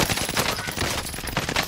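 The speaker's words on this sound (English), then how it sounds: "Taking heavy fire!" Heavy, rapid gunfire in Call of Duty: Modern Warfare rattles on continuously in dense overlapping bursts, loud and close with no pause.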